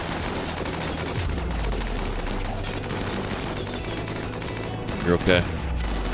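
Rimworld gunfire crackles in a steady stream of rapid shots under a voice speaking briefly, with a sharper burst near the end.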